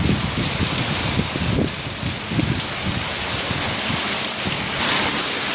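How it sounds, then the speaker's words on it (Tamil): Heavy rain pours down steadily in Mangalore with gusting wind swaying trees, a dense, loud wash of noise with occasional low thumps. "சரியான காற்று, மழை."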